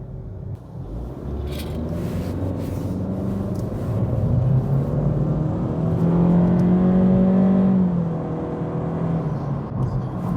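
An Acura Integra with a CVT accelerating, its engine drone rising smoothly and steadily in a continuous pull, heard loud and close from inside the car.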